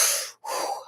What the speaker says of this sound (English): Do some breath work.